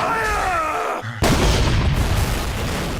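A rocket explosion in a Bioshock Infinite level built in Unreal: a quieter tonal stretch breaks off, then a sudden loud broadband blast hits and rumbles on, dense and sustained, for the rest of the moment.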